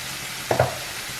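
A spoon stirs paneer curry with spices in a sizzling pan, two quick scraping strokes over a soft frying hiss, close and alone.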